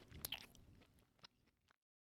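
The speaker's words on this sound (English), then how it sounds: "we need some munching noises." Someone bites and munches on Boston cream pie close to the mic, with a few crisp bites early and then softer wet chewing that trails off into silence.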